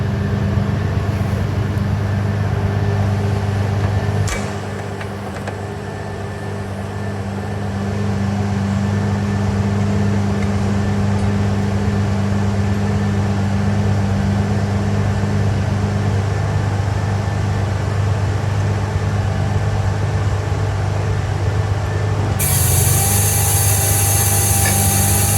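A Vermeer BC1200XL wood chipper's engine runs steadily throughout, a constant loud mechanical drone with a brief dip early on and a brighter, harsher tone toward the end; no one speaks.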